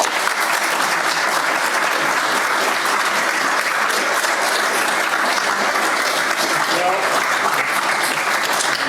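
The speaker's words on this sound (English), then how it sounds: "Now that you've got your clapping practice in" A lecture audience applauds, a dense, even wash of many hands clapping that holds steady and loud throughout.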